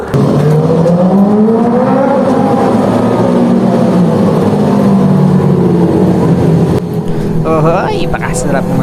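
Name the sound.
big bike motorcycle engines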